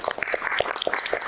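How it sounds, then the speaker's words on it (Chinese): Audience applause at a gathering of airline pilots and flight instructors, a short burst of many hands clapping in an irregular patter, fairly close and loud. "好，掌声。"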